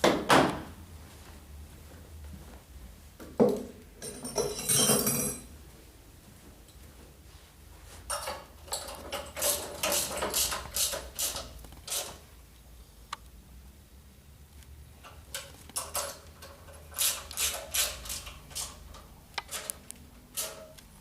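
A wrench tightens bolts while assembling an IC Pro machine, producing irregular runs of quick metallic ratcheting clicks and a few louder knocks, close by and sparse, with quiet gaps between them.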